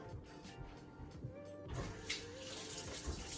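A faucet runs steadily to rinse off a spill of minty green iced coffee, a quiet continuous wash of water with some clatter and handling noise mixed in.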